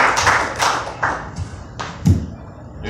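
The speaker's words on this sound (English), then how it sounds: "Give him a round of applause, everybody." Scattered claps and taps from a small comedy-club audience welcoming a comedian to the stage, a few sharp hand hits spaced irregularly rather than a full ovation.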